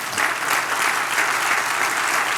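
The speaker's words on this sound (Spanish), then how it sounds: "Dale un aplauso al Señor." A congregation in a church claps in a dense, steady burst of applause, close and fairly loud, with no pauses or speech over it.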